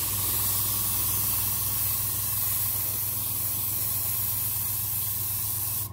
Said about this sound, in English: I'm going to apply a layer of pre-shading, just using Vallejo's Model Air Black, and I'll just coat the entire model in black